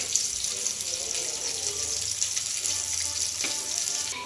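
Rice pours into boiling water in a pressure cooker, a continuous bubbling, rushing hiss up close with a brief clatter near the end and no talking.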